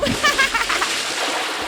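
Toy-play water splashing during a pool-day mermaid swim, a few quick splashy bursts up front that settle into a steady wet wash, with bright excited voices nearby.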